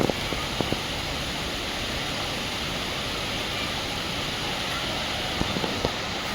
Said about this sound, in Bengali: দেখেন কি বৃষ্টি।